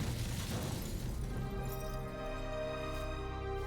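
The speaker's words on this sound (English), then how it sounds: "That explosion or something? It's so loud that it hurts" A loud explosion in The Raven Remastered, a broad, dense roar at the start that settles into a sustained rumbling tail with lingering tonal ringing, heard on its own without speech.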